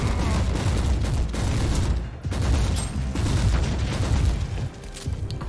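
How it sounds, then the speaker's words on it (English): Explosions and gunfire in the Warhammer 40,000: Inquisitor video game, a dense, loud barrage of booms and bursts rolling on continuously, with a brief dip midway before the blasts resume. "some nice explosions"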